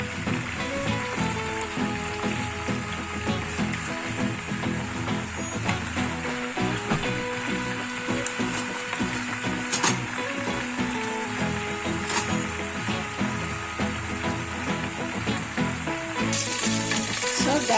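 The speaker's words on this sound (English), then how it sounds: "You guys can see I'm frying my gizzard." Gizzard pieces sizzle and crackle steadily in a hot pan, a dense continuous frying hiss with occasional sharper pops, close and fairly loud.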